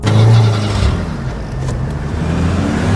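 Car pulling away on a road, engine rumbling steadily close by and rising briefly at the start before settling into a constant drone.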